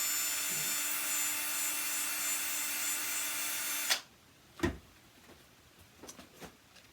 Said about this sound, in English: I'm going to drill out that knob a little bit